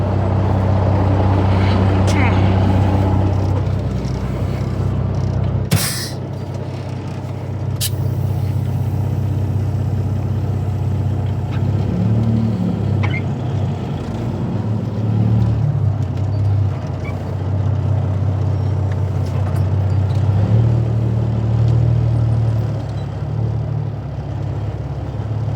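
A semi truck idles and creeps forward to line up under a trailer during a trailer swap, with a deep steady engine rumble, a brief hiss and clunk partway through, and swelling revs near the end.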